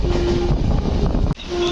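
A superfast express train rolls into Vizianagaram junction, a continuous loud rumble of wheels and carriage noise with a steady tone running through it and a brief dip near the end.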